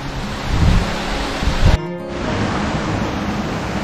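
A waterfall on a mountain trail on the way to Bhadraj blocks the path, giving a steady, loud broadband roar of falling water that fills the whole clip, with a brief dropout partway through.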